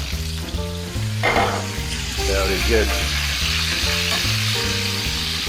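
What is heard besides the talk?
bell peppers frying and sizzling in a pan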